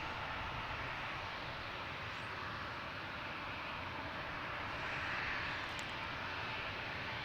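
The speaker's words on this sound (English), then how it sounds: "Republic Airways heading to Nashville in E-175." A Republic Airways Embraer E-175 jet departs at Washington National Airport with a faint, distant, steady rushing roar that barely shifts throughout.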